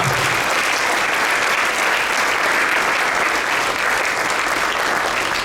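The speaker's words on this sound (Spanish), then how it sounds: "Un aplauso al Señor porque Él te ama." Sustained, loud applause filling a church hall during a Spanish-language Sunday service in Beaverton, Oregon, a continuous roar of many hands clapping from the congregation with no talking.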